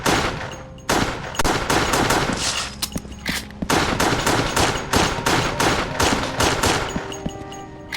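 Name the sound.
gunfire in video game Resident Evil: The Darkside Chronicles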